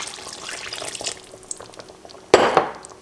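Two cups of water poured into a pot of lamb shoulder chop curry, a sudden loud gush near the end after quieter kitchen clatter.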